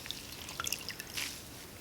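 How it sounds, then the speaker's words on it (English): Water drips and trickles from a soaked synthetic-fiber knitted piece as it is wrung out over a bath, giving a handful of scattered close drips and a brief squishy trickle. "wring out the excess water"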